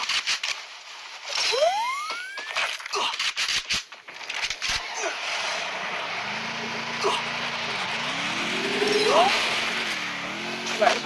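Car engine in the Free Fire MAX battle game, droning low and rising in pitch as the vehicle drives, with gunfire-like bursts and rapid talk over it for most of the stretch.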